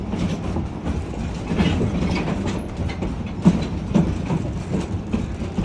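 A narrow gauge logging railroad train on the Yosemite Mountain Sugar Pine Railroad rolls along steadily, wheels clattering over rail joints in an irregular clickety-clack under a constant low rumble, heard close from aboard.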